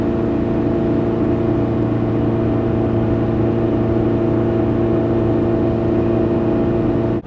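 Underpowered 4-cylinder engine of a 27-year-old Toyota Tacoma 4x4 climbing a mountain pass, a loud steady droning hum at constant pitch inside the cab, unbroken for the whole stretch.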